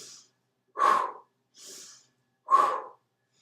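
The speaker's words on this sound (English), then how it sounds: "Deep diaphragmatic breathing." Deep diaphragmatic breathing during a Pilates workout: four close, slow breaths with no talk, stronger exhales alternating with softer, airy inhales and short pauses between them.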